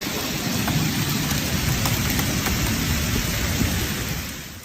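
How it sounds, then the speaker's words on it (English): Steady rain pours around the Kaaba in Mecca during tawaf, with a thunderstorm's deep rumble under a dense, loud wash of falling water that holds without a break. "Whilst we're doing tawaf, it has started to rain a little bit."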